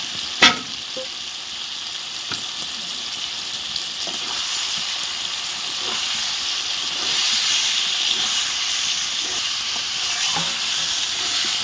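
Fish rubbed with salt and turmeric frying in a full wok, a steady loud sizzle and hiss with an occasional clank of the spatula, close and continuous with no talk.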